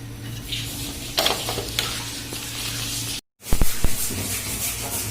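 Freshly butchered white chicken frying in its own rendered fat over an open fire, making a close crackling sizzle with bursts of spitting, a brief dropout, and a low hum underneath.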